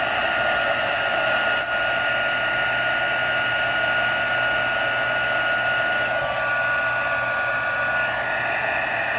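A heat gun blows a steady, loud whooshing roar while melting embossing powder on a stamped pumpkin card, running continuously without a break and with no voices.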